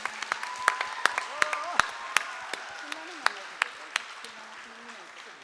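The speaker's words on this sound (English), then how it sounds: "I would like to give her another round of applause" Audience applause at a ceremony honoring musicians, many sharp claps ringing out unevenly at moderate loudness, with a voice speaking over the start.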